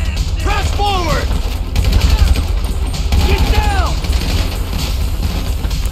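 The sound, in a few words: gunfire in video game Grand Theft Auto V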